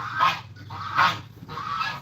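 Geese honk three times in a steady rhythm, loud and near, in a backyard flock kept alongside chickens.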